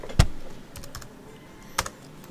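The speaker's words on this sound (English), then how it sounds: "Just typing that in the computer over here." Computer keyboard keys tapped in a few separate clicks with pauses between them, close and fairly loud, in a workshop beside an RC motor dyno setup.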